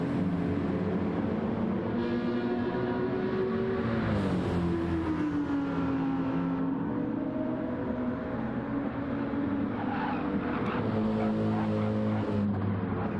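A BMW M6 GT race car in a racing video game accelerates out of the Suzuka hairpin, its engine droning loud and steady with rising and falling pitch through gear changes, alone without talk.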